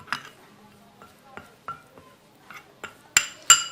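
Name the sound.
mixing rose water and turmeric face mask in a bowl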